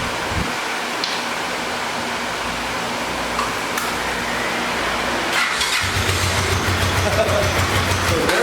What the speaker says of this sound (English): Let it crank up again.